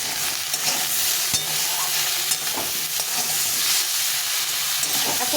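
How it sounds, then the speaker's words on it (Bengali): Vegetables with tomato, salt and turmeric fry in a hot pan, giving a loud, constant sizzling hiss up close, broken by a few soft stirring knocks. "টমেটো দিয়ে একটু লবণ দিয়ে দেবো আর একটু হলুদ গুঁড়ো দিয়ে আবার একটু ভালো করে ভেজে নেব"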